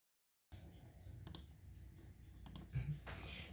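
A computer keyboard is tapped in quick, light, irregular clicks, with a couple of sharper key strikes. The typing is quiet and close, with no talking over it.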